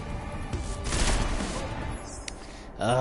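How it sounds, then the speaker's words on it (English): Bursts of rapid gunfire crackle amid noisy sound effects in the video game Deus Ex: Mankind Divided, fairly loud, with a brief clattering crash and a voice at the end. "Gunfire in AO, over."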